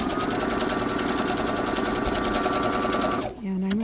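A sewing machine runs steadily at speed stitching a serpentine stitch through fabric, a dense continuous whirring hum that stops abruptly near the end, followed by a brief low tone.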